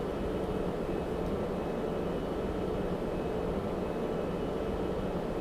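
A jet fighter in the Vietnam-era flight sim Strike Fighters 2: Vietnam, steady broad engine roar at moderate level, continuous and unchanging, with no voices.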